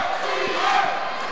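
Wrestling crowd in an Allentown arena roaring and cheering for a tag team, a sustained wash of many voices with shouts rising in the middle, no commentary audible.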